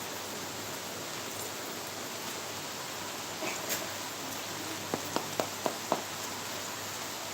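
Rain falling steadily, a broad even hiss throughout, with a few faint knocks and clicks near the end.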